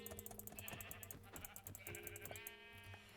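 Sheep in a video game bleat repeatedly, several overlapping calls with a tonal, wavering quality, moderately loud against a steady ticking game background and no talking.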